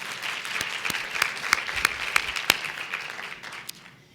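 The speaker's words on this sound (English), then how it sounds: "Round of applause for that woman." Audience applause at a talk, a steady round of clapping with several sharp, close individual claps standing out before the sound tapers off at the end.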